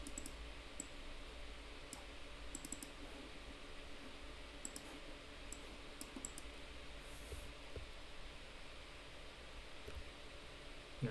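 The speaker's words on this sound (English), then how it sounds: "I can control the robot using my keyboard." Computer keyboard keys clicked to steer a robot, sharp, quiet clicks scattered irregularly in small clusters over a steady low background hiss, with no talking.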